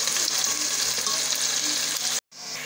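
Thin-sliced onions fry toward golden for chicken biryani, a dense continuous sizzle up close that cuts off abruptly near the end before resuming more quietly.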